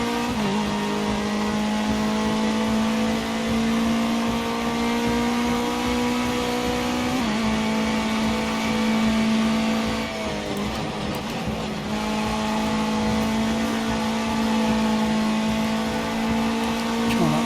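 A Ginetta Junior race car in Project CARS 2 at a wet UK circuit, its engine droning loudly with steady pitch, dipping and rising through gear changes and braking, while someone talks over it.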